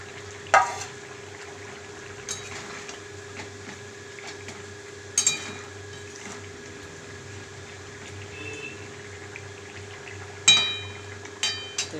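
Egg and potato curry with fried boiled eggs simmering in a pot, a steady soft bubbling and sizzle with a few sharper pops rising over it, close by and with no talking.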